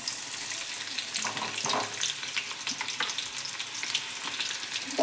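Cumin and mustard seeds splutter in hot oil while cooking sambar, a continuous close sizzle broken by scattered popping crackles, with no one speaking.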